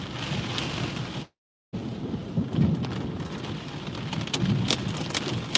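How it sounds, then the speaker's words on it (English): Hail and heavy rain pound down during a nighttime thunderstorm with damaging winds in Scottsdale, Arizona, a dense steady roar of impacts broken by a brief total dropout, with sharper hits bursting through. "Yep, hail coming down."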